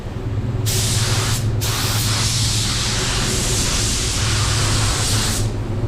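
Steady, loud hiss of a paint sprayer running continuously and close by, with brief breaks in the spray near the start and end.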